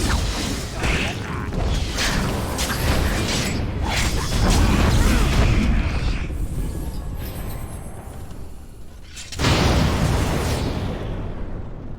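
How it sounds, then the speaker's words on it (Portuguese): A dense, rumbling explosion from the video game Dragon Age: Origins roars through the scene, a sustained wash of blast and debris noise that dips briefly, then surges back with a second loud burst. "Eu não entendi essa porra dessa explosão"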